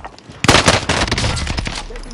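Gunfire in Call of Duty Warzone bursts out loud and close, rapid automatic shots in quick succession over a short stretch.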